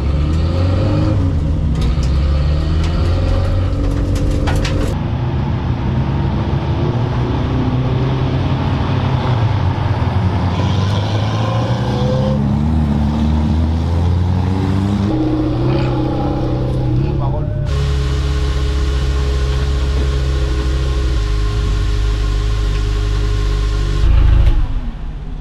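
Renault 4L race cars set off at a 24-hour race, engines revving and rising in pitch as they pull away, loud and close, while people talk nearby.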